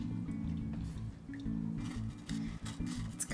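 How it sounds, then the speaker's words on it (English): Sugar syrup with cinnamon, orange rind and lemon rind is stirred in a pot as it heats toward a boil, making steady close squishing, sloshing and bubbling liquid sounds. "So we're gonna stir until it boils."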